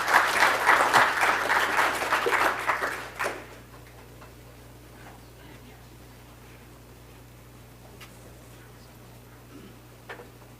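An audience at an afternoon book talk applauds to welcome an author to the podium. The clapping is loud and dense for about three seconds, then fades into a quiet room with faint ticking.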